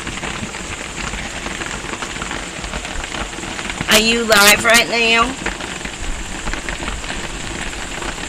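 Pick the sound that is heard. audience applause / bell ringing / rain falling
rain falling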